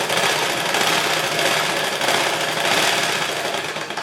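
A sewing machine top-stitches a lined blouse with a dense, steady whirring rattle that runs continuously at close range, fairly loud and alone.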